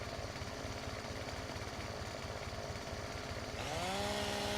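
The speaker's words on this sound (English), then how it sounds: "Let's get our chainsaw and we go." A chainsaw in a farming video game runs at a steady, buzzing idle, then revs up near the end as it bites into a tree, loud and close with no speech.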